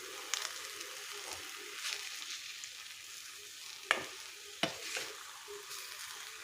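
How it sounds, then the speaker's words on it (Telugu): Cabbage egg fry stirred in a pan over a medium flame: a steady low sizzle with soft scraping strokes throughout, and two sharper spatula knocks near the end, close and fairly quiet. "ఇది మీడియం ఫ్లేమ్లో పెట్టుకొని కలుపుకుంటూ ఉండాలండి"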